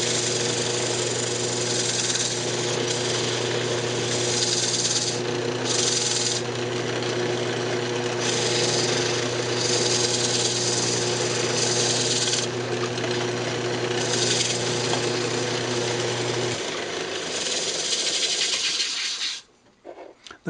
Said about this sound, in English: I'm just going to go ahead and sand the inside up here